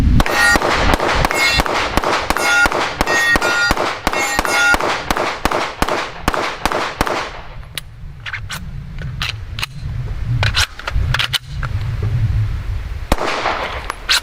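Rapid series of sharp, loud shots from a PSR40 firearm, about two dozen in quick succession over the first half, then several more spaced single shots with a low hum between them.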